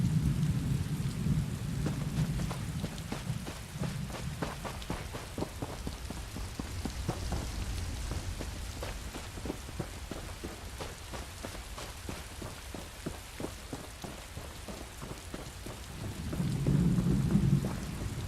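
Steady rain falls in the Elder Scrolls Online video game, set in Grahtwood, with low thunder rumbling near the start and swelling again at the end over a constant wash of drops.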